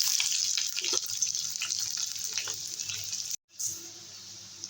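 Dried red chillies and chopped onion fry in a pan with a bright, continuous sizzle and crackle. A brief silence cuts in, and the sizzle then returns more softly.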